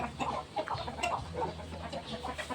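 Chickens cluck repeatedly at feeding time, with short overlapping clucks from several birds at close range and no talking.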